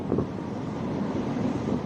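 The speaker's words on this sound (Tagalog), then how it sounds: "Lakas ng hangin." Strong wind buffets the microphone in a continuous rough roar, with gusts rising and falling throughout, heard from a cable car.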